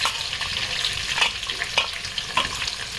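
Onions fry with curry leaves and bay leaf in hot oil, a steady close sizzle with scattered crackles and light stirring scrapes.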